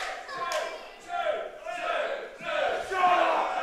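A wrestling crowd in Yarmouth cheers a two-count near fall, rising in repeated waves of shouts and yells, moderately distant in the hall.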